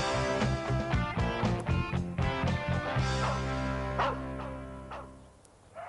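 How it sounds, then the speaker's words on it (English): A dog next door barks and yips in a quick burst of repeated barks, then lets out a longer whimpering whine that fades. Loud and close, with no talking. "if the dog next door doesn't stop barking, it can drive you absolutely crazy"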